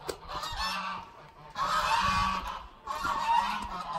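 Geese on a farm honk in two loud bursts of raucous cackling, separated by a short lull, close by with no talk over them.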